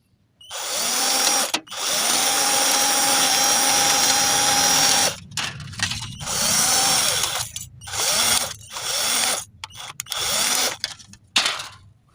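A cordless drill with a hole-saw sheet-metal cutting attachment, its battery worn, running at low speed: a long continuous whine, then several short bursts of drilling separated by brief pauses.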